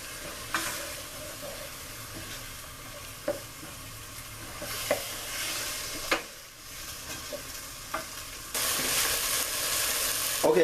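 Vegetables and chili sizzle steadily in a hot pan while being stirred, with a spoon scraping and clinking now and then and the hiss swelling toward the end, close-up and without talk.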